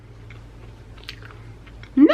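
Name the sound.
biting and chewing a crispy low-carb snack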